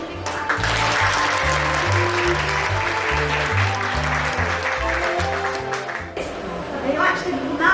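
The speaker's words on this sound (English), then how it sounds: "So can you just give me a big clap?" An audience at a family quiz during the Ramsbottom Millennium Festival in June 2000 gives a sustained round of applause, dense clapping over low background music that carries on throughout.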